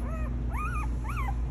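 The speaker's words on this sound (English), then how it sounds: "Beautiful puppies." Young puppies from a large dog's litter whimper in thin, rising and falling whines, three short cries in quick succession, close by over a constant low hum.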